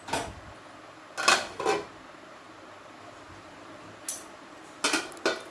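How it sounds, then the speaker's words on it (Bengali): A lid set on a cooking pot of potatoes and broccoli simmering in water gives a few close metallic clanks and clatters. Quiet gaps separate short groups of knocks. "দেখুন একটু নেড়ে চেড়ে দিলাম, এবার ঢাকা দিয়ে দেবো।"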